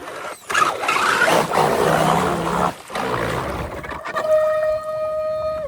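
Grinding whine from a stripped pinion gear in a TRX4 RC mud truck with a GPM motor mount, rough and churning at first, then settling into a steady high-pitched gear whine near the end.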